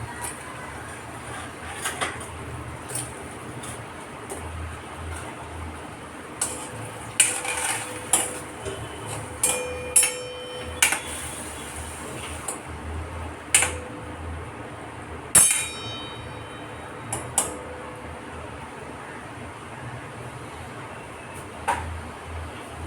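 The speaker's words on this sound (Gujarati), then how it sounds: "હું બધા જ એમાં ગુલાબજાંબુ નાખી દઈશ" Gulab jamuns dropped one by one into warm sugar syrup in a pan, giving a series of sharp metallic clinks and taps from a spoon against the pan, spaced irregularly over a quiet kitchen background.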